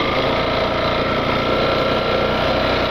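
A small motorcycle engine idles steadily at close range, a constant low rumble with no talking.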